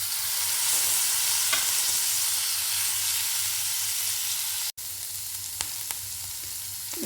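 Vegetables and cauliflower leaves sizzle in a pan of frying chutney, a loud, steady close hiss with occasional stirring scrapes and a brief break midway, no talking.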